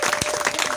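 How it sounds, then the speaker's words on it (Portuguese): A church congregation breaks into applause, a quick burst of many hands clapping together at close range, sounding brief and fairly loud. "Será que podemos aplaudir?"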